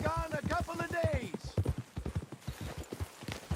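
Horse hooves clip-clop in a steady walking rhythm in the video game Red Dead Redemption 2, close and clear while someone talks over the footfalls.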